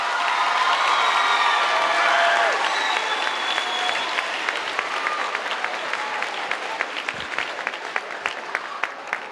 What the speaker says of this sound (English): How about another round of applause for our 8th graders?